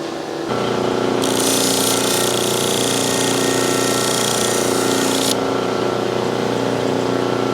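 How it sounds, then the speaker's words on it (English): A loud, steady power sander grinds resin castings flat without pause, its harsh high hiss kicking in after a moment and then dropping away near the end. "A power tool doesn't do anything differently than you can do with hand sanding."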